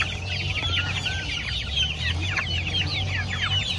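A flock of about 150 one-month-old Hubbard chicks inside a coop, producing a dense, continuous chorus of high cheeping and peeping calls over a low steady hum, close and fairly loud throughout.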